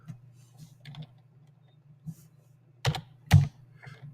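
Computer keyboard typing, quiet scattered key clicks over a steady low hum, then two louder close keystroke clacks near the end.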